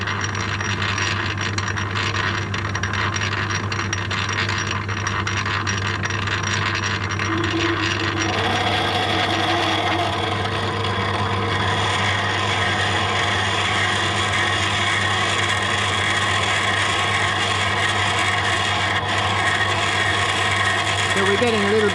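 Steady mechanical whine of a drill running at low, gear-reduced speed, a constant hum with grinding and rubbing as it cuts a hole, continuous throughout with no talking.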